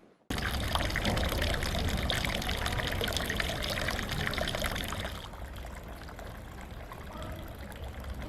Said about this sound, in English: just a dripping tap.